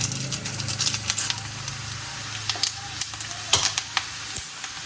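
Cloves, bay leaves and dried red chilies sizzle in hot oil in a pan for dal fry, a steady bright crackle with scattered sharp pops and light stirring scrapes throughout, close and fairly loud.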